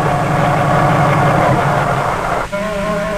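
A helicopter engine runs steadily and loud with a low, dense rumble and whine, the pitch holding constant before a brief dip and a cleaner tonal hum near the end.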